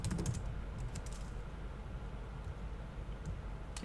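Keys clattering on a computer keyboard while ACL rules are entered, sparse clicks near the start and end over a loud steady hiss, no voices.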